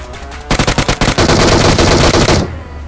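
Rapid automatic AKM rifle fire in PUBG, a loud sustained burst of closely spaced shots lasting about two seconds after a brief pause, then cutting off.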